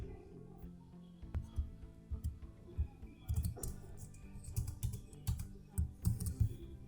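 Someone types JavaScript code on a computer keyboard, giving a close, fairly quiet run of irregular key clicks that grows busier after a short pause early on.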